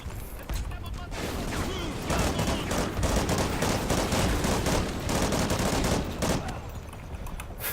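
Sustained, heavy automatic gunfire in a Call of Duty: Ghosts firefight, loud and near, running almost continuously for several seconds with overlapping shots and voices calling out.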